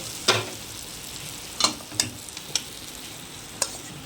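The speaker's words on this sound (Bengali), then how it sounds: "এবার সব মিশিয়ে নেব" A spoon stirs masala khichuri in a pot, making several sharp scraping clinks at irregular intervals over a faint sizzle, close and fairly quiet, with no speech.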